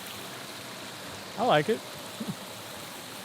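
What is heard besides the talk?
small waterfall on the Oregon Coast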